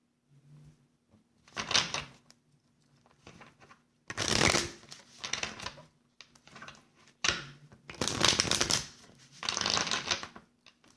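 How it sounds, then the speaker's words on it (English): Tarot cards riffled in a bridge shuffle, sounding as several crisp, fluttering bursts of a few seconds each with quiet pauses between them, close and fairly loud, with no talking. "It's being indicated for me to use the bridge shuffle."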